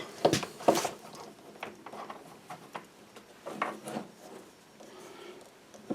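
Wooden pieces of a serpentine pen being pressed together and clamped after gluing, with a couple of sharp knocks followed by scattered rubbing and light clicking handling sounds at close range.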